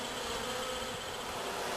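Honeybees in a shipped bee pack buzz in a dense, steady drone that fills the space, close and continuous without pause or voices.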